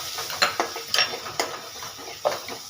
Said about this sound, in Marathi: आता मी छान हा घरातला काळा तिखट ॲड करून याला छान परतवून घेते